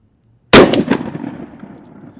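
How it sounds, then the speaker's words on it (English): A single loud, close 12-gauge shotgun blast fired with a Gowutar HHC-A18 enclosed optic mounted, with a sharp crack followed by a roughly two-second rumbling decay. "We'll do a little bit more shooting with the shotgun"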